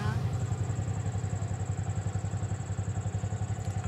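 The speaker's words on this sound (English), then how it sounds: "Ah, motorbike." A motorbike engine runs close by on a rough bush path in rural Sri Lanka, a throbbing, rattling low drone that stays loud and steady throughout.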